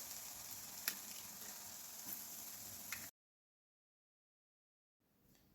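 Beaten eggs are poured into a pan of frying spring onion mixture and hiss and sizzle steadily for about three seconds. Then there is a sudden silence, and quieter sizzling returns.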